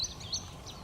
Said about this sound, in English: wading birds.